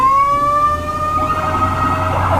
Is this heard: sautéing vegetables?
no